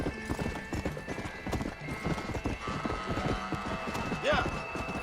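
Horse hooves clip-clopping at a gallop in the video game Red Dead Redemption: Undead Nightmare, a steady rapid rhythm close by, with a brief whinny near the end and game sounds underneath.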